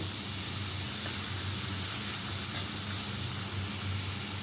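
Fish and vegetable chorchori cooks in a wok with a soft, steady sizzling hiss throughout. A couple of faint clicks sound over it, and the cooking is moderately close with no talk.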